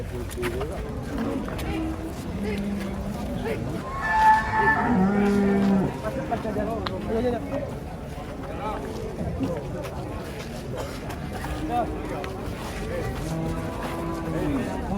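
Large cattle moo nearby amid busy crowd noise at an outdoor market in Indonesia, with people talking throughout and a loud low moo standing out midway.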